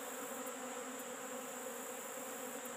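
Robber bees swarm the entrance of a struggling beehive, a dense, steady buzz close by that holds unbroken throughout with no voices.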